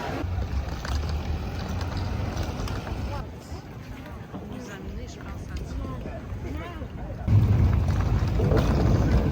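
A low, droning boat engine and rushing water and wind noise run throughout on Tu Long Bay, Vietnam, swelling louder near the end, with people talking over it.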